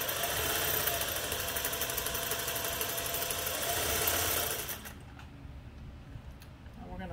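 A Singer 401A sewing machine runs steadily, stitching fabric with a close, even mechanical hum and rapid rhythmic needle clatter for about five seconds before it slows and stops, leaving a quieter hum.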